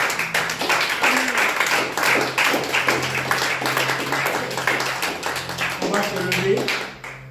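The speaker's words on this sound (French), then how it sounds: "On acclame très fort pour Jésus." A church congregation claps steadily for Jesus, dense and continuous, with voices cheering and speaking throughout.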